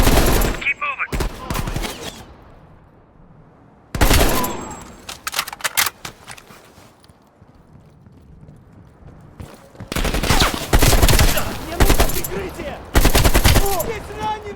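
Machine gun fire in the Call of Duty Black Ops Cold War video game: loud sustained automatic bursts in several long volleys separated by quieter gaps, with faint voices in between.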